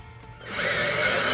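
A power drill spinning up after a short quiet start, its motor rising into a steady high whine and holding there, close by and fairly loud, with no voices.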